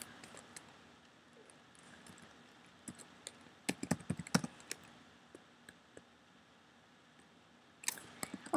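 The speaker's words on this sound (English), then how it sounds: "Okay, I'm typing it." Sparse clusters of keyboard key clicks, quiet and close, come in short irregular bursts against a low steady background, with a louder flurry near the end.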